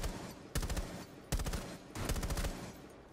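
Rapid gunfire in Rainbow Six Siege, three close bursts of automatic shots separated by short pauses, loud and punchy with no talking.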